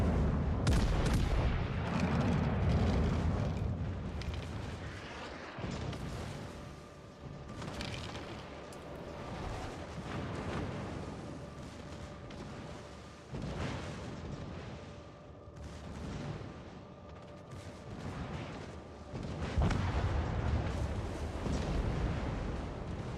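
Repeated booming bomb explosions and gunfire in the war video game War Tales, loud and dense, with heavy low rumbles that swell at the start and again near the end.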